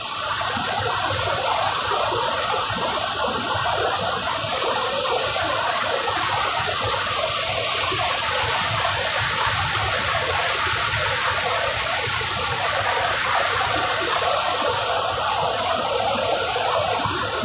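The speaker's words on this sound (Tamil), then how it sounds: "இந்த இடத்துல வந்து பாறையிலேருந்து தண்ணி வந்து செமையாக விழுகுது" Water tumbles from rocks in a waterfall, a steady broad rushing hiss that stays loud and close without pause.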